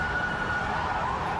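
Emergency sirens wail steadily close by in a street in the aftermath of an explosion, fire engines arriving on the scene, the wavering tone sustained throughout amid loud traffic and background rumble.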